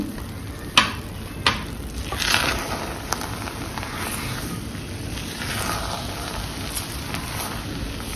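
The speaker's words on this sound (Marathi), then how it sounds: "आता आपण याच्यामध्ये 1 वाटी साखर मिक्स करायची आहे." Sugar is stirred into cooked coconut rice for the sweet festival dish narali bhat, a close scraping and stirring over a soft sizzling hiss from the hot pan, with a few sharp spoon knocks near the start.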